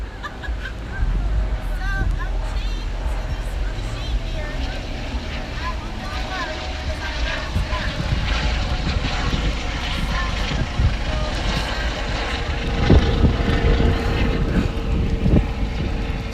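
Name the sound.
helicopter flying overhead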